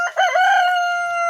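A rooster crows in a chicken coop just after the flock has been fed, one close, loud, drawn-out call lasting over a second and sounding clear, with no other voices.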